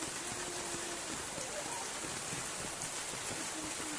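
Light drizzling rain falls steadily, a dense even patter of fine drops hissing on surfaces nearby, with no pauses across the few seconds.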